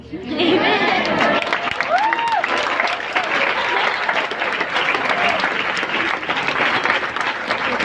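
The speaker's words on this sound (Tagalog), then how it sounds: "lumalakas yung palakpak dito sa lugar na ito" Loud, sustained applause from a youth audience at a church youth gathering, dense clapping filling the whole stretch with some cheering and crowd chatter mixed in.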